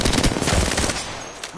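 Rapid automatic gunfire rattles up close in an Apex Legends match, a dense burst of shots that gradually thins out toward the end.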